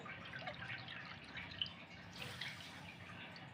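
Water trickles and drips faintly into a bowl of sugar for syrup, a soft continuous pour heard close but quiet, with no voices.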